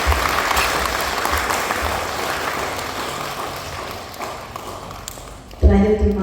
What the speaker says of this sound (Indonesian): Mari kita beri aplaus sekali lagi kepada Tuhan.